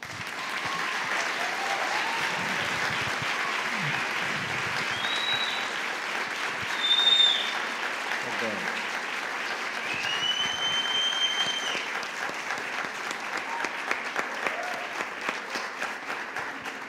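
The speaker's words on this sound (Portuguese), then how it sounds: "O aplauso já disse tudo" An audience at a diversity forum on partnerships between nonprofits and private companies applauds steadily for the full stretch, a dense, even patter of many hands heard from within the room, with a brief swell midway.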